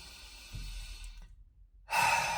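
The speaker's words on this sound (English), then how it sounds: "Take that rich breath in." A slow, deep breath drawn in close to the mic, a soft airy rush near the start fading to near silence before a louder burst of breathy air at the end; no talking.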